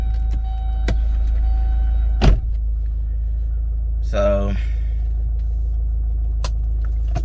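A car engine runs with a steady, low idling hum throughout, broken by a few brief clunks and clicks. Someone speaks briefly.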